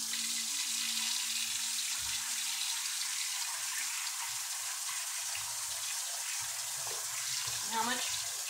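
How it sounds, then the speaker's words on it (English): Warm tap water runs steadily into a pot, a continuous rushing hiss with some splashing, and a voice speaks briefly under it. "you're going to fill that pot with the warm water"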